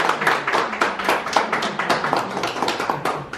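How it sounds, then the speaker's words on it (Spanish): A small group claps for Melanie at her baptism, quick uneven hand claps close by, steady for a few seconds without talk. "Un aplauso para Melanie"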